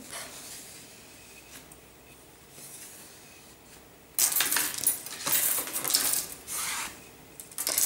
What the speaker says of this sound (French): À l'aide du chiffon, nous allons tout simplement lisser nos fils.